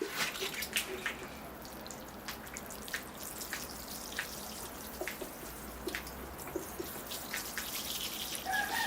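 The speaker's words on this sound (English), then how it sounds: "Okay, I'll get out the watering can and water that sand in." A watering can pours water onto bonsai sand around a Ficus microcarpa, a steady close trickle and splash with scattered drips, alone with no talking.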